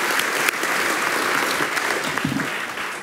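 An audience welcoming a speaker to a talk on modern spirituality with warm, sustained applause, many hands clapping steadily and filling the room for about three seconds.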